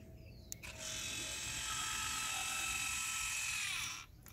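Electric exhaust cutout valve on a BMW motor opening and closing on the bench, a steady high whirring gear drive running for about three and a half seconds between two faint clicks.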